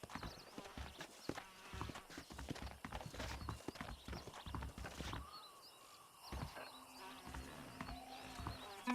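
Horse hooves clip-clop at a steady walking rhythm in the Red Dead Redemption video game, several animals close by, with faint ambient outdoor sound and no talk.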